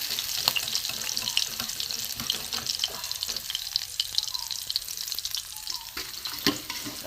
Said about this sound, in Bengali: কড়া করে মাছ ভাজা হয়ে গেছে।